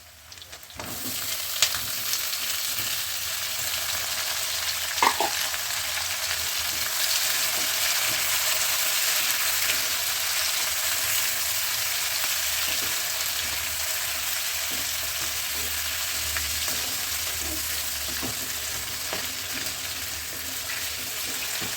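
About six tomatoes go into a hot pan for a butter curry gravy, producing a continuous loud sizzle and frying hiss with a few brief clinks and stirring sounds over it.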